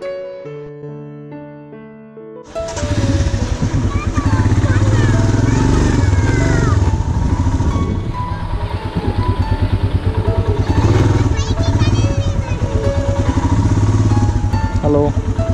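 A Royal Enfield Himalayan motorcycle starts up after a quiet moment and then runs steadily on a ride near Chikmagalur toward Z Point, a loud, close engine thrum with rhythmic pulsing and wind, and some gear and rev changes.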